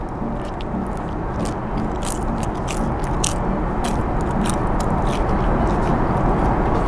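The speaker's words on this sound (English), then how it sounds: "Can you hear that? It is crispy." Loud, close crunching as crispy Chinese fried dough is bitten and chewed, continuous crackly texture with sharp bursts, no talking.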